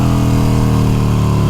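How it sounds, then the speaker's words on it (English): Harley-Davidson Iron 883 motorcycle with a Vance & Hines exhaust and Stage 1 tune, its engine idling with a deep, steady, loud rumble throughout. "It's a freaking 883 and it's groaning."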